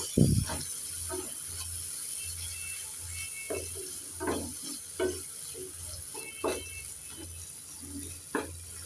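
Ginger, green chilli and cumin paste stirred in a pan for a fish curry, giving soft scraping and clacking strokes at an irregular pace over a steady low hum, close by with no talk.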